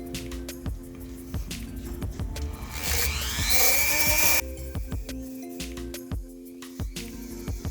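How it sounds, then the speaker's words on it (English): A Dremel rotary tool grinds a steel Jeep Wrangler tire carrier hinge, a high whining buzz that rises to a sustained shrill burst in the middle, with scraping and bumps around it. "using the Dremel head, we're going to go ahead and try to Dremel the shallow end off"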